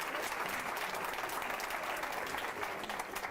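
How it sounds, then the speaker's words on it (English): Audience in a meeting room applauding steadily, a dense wash of clapping that holds at even loudness throughout. "Let's give this group a big round of applause"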